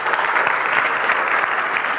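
Audience applause after a talk at an enterprise technology conference, a dense, even burst of clapping from a roomful of people lasting about two seconds.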